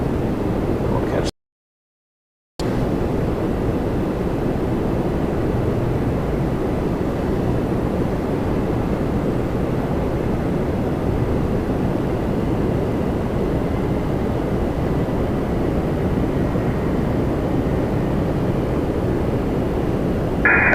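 An Air Canada Airbus A320-200 landing on runway 24 right at Toronto Pearson, a steady broadband roar that holds evenly for about twenty seconds after a brief dropout near the start, with no voices over it.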